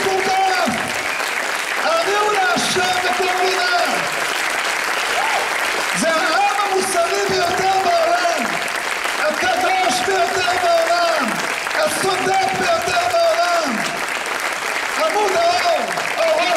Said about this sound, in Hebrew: מגיע לעם ישראל מחיאות כפיים.